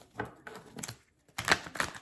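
Tarot cards being shuffled make quick papery riffles and soft flutters in two or three short bursts, close and fairly quiet, with a brief silence between them.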